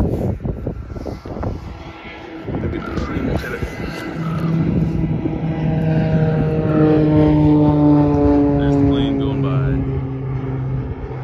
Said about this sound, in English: There's the plane going by.